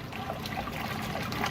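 Hot water trickles from a jug into a marine protein skimmer cup during cleaning, a soft, steady dribbling pour at low level with no voices.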